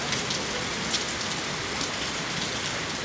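Heavy rain pours down steadily, a dense, loud hiss of drops on surfaces with no pauses.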